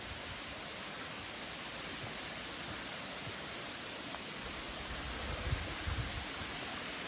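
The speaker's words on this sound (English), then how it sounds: "I think here we're right at the top of the waterfall." Steady broadband rush of falling water at the top of Scaleber Force waterfall in Yorkshire, a continuous even roar heard close with faint rustles near the end.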